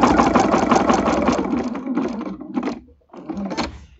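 A sewing machine with a walking foot stitches through a quilt, a loud, close mechanical whir that runs steadily, slows, pauses briefly, then starts again in a short burst.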